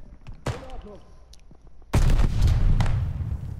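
Grenade explosion in a shooter video game: a sharp bang early on, then a heavy, loud blast that sustains and rumbles for over a second, with a smaller crack near the end.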